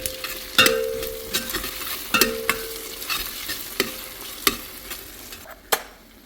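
Ginger garlic paste is stirred into frying onions in a pan for mutton curry, with a steady sizzle broken by a handful of sharp, close spoon scrapes and taps.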